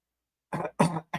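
Three quick coughs in a row, close and dry, after a short silence.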